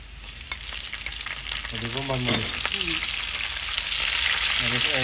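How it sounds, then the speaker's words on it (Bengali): Onions frying in a pan in a home kitchen, a loud dense sizzle with stirring clicks, and a voice briefly heard in the middle. "এই যে আমাদের পেঁয়াজ ভাজি হয়ে গেছে"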